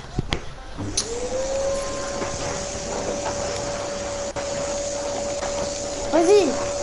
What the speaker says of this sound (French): C'est chez qui l'aspirateur, là?